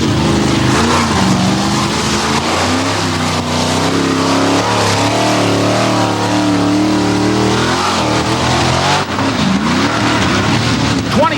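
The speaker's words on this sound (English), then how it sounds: "This will be our final truck in the first round of competition with monster trucks." The Beast, a 1989 Chevrolet C3500 monster truck, revs loudly and continuously at a monster truck competition, its engine rising and falling in pitch with a steady roar throughout.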